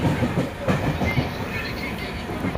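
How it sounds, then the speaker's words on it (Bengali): Steady rumble of a Bangaon local train with rhythmic clattering wheels, loud and close throughout, as it pulls into Ranaghat station. "বনগাঁ ট্রেন ঢুকে গেছে এখন"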